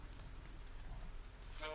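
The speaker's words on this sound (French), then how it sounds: "La pluie commence à tomber en fines gouttes." Fine rain patters steadily and softly in a dense, even hiss as an audio drama effect, faint and continuous throughout.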